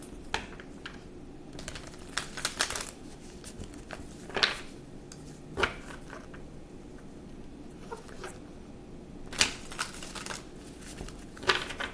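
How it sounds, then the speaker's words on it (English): A deck of tarot cards is shuffled by hand at a quiet table, with soft riffling and patting bursts at irregular intervals and a few sharper flicks. "I'm going to shuffle the cards."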